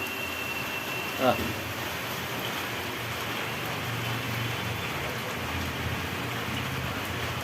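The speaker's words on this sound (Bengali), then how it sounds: "বাইরে তো বৃষ্টি হয়েই যাচ্ছে" Rain falling steadily outside, a soft continuous hiss of drops on surfaces heard from indoors, with one brief thump early on and faint background voices.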